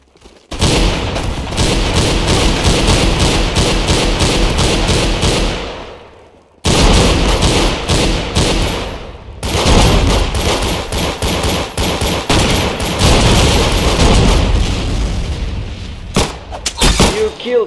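Rapid automatic gunfire in the Roblox shooter Arsenal, long loud bursts of fast repeated shots with a brief pause midway and scattered single shots near the end.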